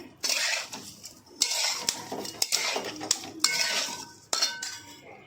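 A spoon clatters and scrapes against a bowl while green peas are mixed into a poha cutlet mixture, giving repeated loud metallic clinks and stirring bursts, close up, with no talking.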